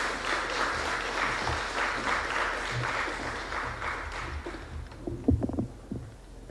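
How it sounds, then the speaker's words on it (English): An audience at a community impact meeting applauds warmly to welcome a speaker, a steady wash of clapping that thins out toward the end with a few scattered louder claps. "Ladies and gentlemen, please welcome her with a warm round of applause."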